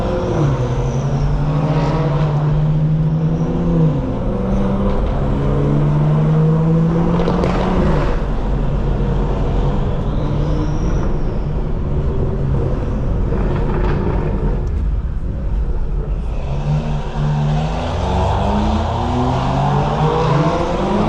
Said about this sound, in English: These cars are loud today